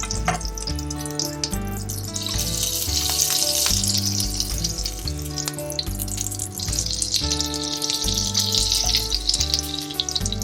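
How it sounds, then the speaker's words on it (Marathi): Oil left over from frying paneer, carrying chili and spice flavour, sizzles steadily in a hot pan with a bright continuous hiss, joined by intermittent clinks and a rhythmic background pattern, with no talking. "पॅन गरम झालेला आहे आणि आपण पनीर जे तळून घेतलं होतं तेच तेल आपण याच्यात टाकतोय आता"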